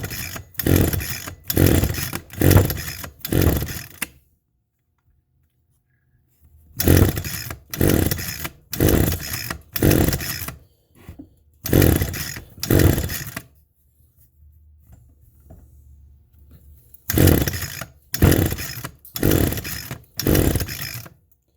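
An Echo 225 small two-stroke engine is pulled repeatedly, sputtering in loud rhythmic bursts of four or five strokes separated by silent pauses, catching briefly and running roughly between pulls, with no talking.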